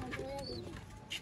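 Cooing from a breeder pair of pigeons, soft murmuring calls close by, with a few brief chirps mixed in over a steady background.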